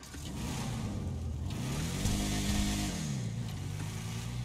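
A modified car engine in GTA 5 idles and revs up and down, a loud, close, continuous drone with pitch rising and falling, with no talking.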